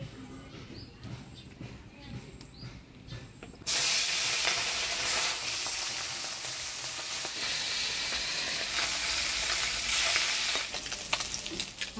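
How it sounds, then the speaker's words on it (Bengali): Fish frying in hot oil in a home kitchen, a loud steady sizzle that bursts in suddenly after a quieter stretch and holds for several seconds, with stirring noises and some background speech. "এবার মাছগুলা ভাজি নেব।"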